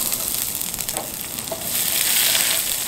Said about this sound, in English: Just fry this onion for maybe 5-6 minutes or until they get a little bit caramelized.